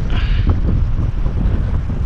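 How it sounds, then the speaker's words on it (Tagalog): Strong gusts buffet the microphone during a shore jigging session, a loud, low, rumbling roar with uneven thumps and swells that persist throughout, with no voices. "Masyado kasing mahangin eh"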